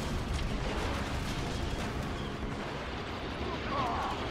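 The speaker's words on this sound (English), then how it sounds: "It's random explosions always getting me." Rumbling, continuous explosions and artillery-style blasts in Star Wars Battlefront II Classic during tank combat, a loud, dense wall of booms and gunfire that stays near and steady throughout, with a brief brighter burst near the end.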